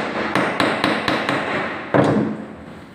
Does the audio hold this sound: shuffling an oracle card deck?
no